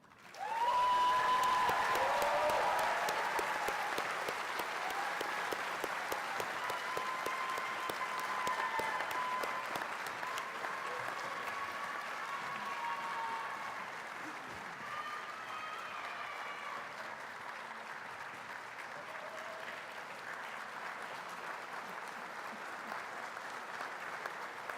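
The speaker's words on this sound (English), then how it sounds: "One last round of applause for everyone." Sustained applause from an audience at a graduation commencement ceremony, starting abruptly, full and steady for several seconds, then settling into softer, continuous clapping with a few faint shouts in the hall.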